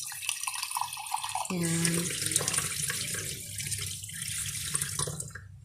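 Water is poured into a pan of adobong sitaw (string beans) while cooking, a running splash under a noisy kitchen background, with someone speaking briefly.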